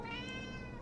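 A house cat gives a single drawn-out, tonal meow, close and clear, under a quiet indoor background.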